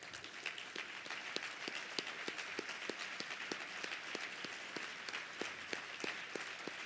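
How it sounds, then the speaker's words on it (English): Sustained applause fills the room as the audience rises to honor the 2017 Chattahoochee Valley Sports Hall of Fame class, with steady, dense clapping from a large crowd and a few sharper individual claps standing out. "give one final round of applause to the"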